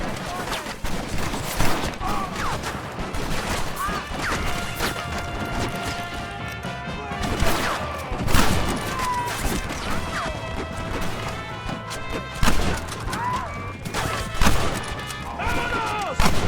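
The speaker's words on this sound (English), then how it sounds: "Shoot them, Maston!" Rapid gunfire in the Western video game Red Dead Redemption cracks in dense volleys and scattered single shots amid crashing impacts, with voices shouting in between.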